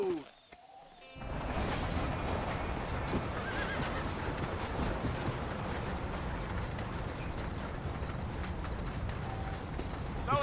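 A horse in Red Dead Redemption snorts and whinnies while its hooves clop steadily over a rumbling outdoor game soundscape, loud and continuous after a brief quieter opening.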